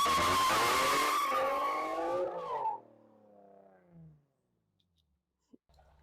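Tires on a Nissan G35 coupe screech loudly in a skid after a clutch-kick drift. The squeal holds for about two and a half seconds, then slides down in pitch and fades to near silence, with a couple of faint knocks at the end.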